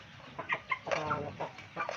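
Several short clucks from chickens, close and fairly soft, spaced irregularly over a couple of seconds.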